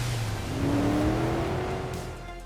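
Ford F-150 XLT pickup with a 3.5-liter PowerBoost hybrid V6, driving fast through a desert wash. The engine note is loud and close, swelling and rising steadily in pitch as the truck accelerates, then easing slightly, with no voices.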